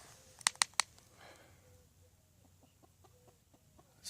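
Juvenile great horned owl tangled in bird netting chomping its beak, three sharp loud clacks in quick succession early on, then fainter scattered clicks against a quiet outdoor background.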